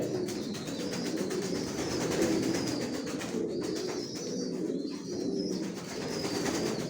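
Racing pigeons coo continuously inside a loft in Bangladesh, soft overlapping throaty calls with occasional higher chirps, close and steady throughout without any talk.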